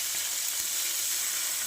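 Onion frying in oil with biryani spices, a steady, close, even sizzle that holds without a break and with no voices.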